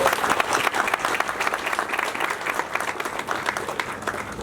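Dense, steady applause from a crowd at a hotel ribbon-cutting ceremony for a new Cambria hotel, continuous clapping filling the whole stretch with a faint voice or two underneath.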